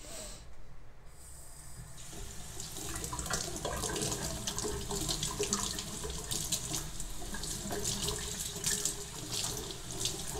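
A kitchen tap runs in a steady, close splashing stream as an orchid plant is held under it and rinsed, the flow continuous and unbroken throughout.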